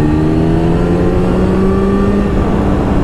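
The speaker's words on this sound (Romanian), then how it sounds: "vorbim despre un motor care merge, nu stă." A 2004 Kawasaki ZX10R sport motorcycle engine runs loud and close at a steady, droning pitch with no clear rev swings, alone without voices.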